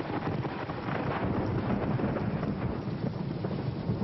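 Night thunderstorm staged at a Paco Rabanne fashion show: a steady, loud rumbling roar of wind and rain noise with no distinct breaks, dense and even throughout, with no voices.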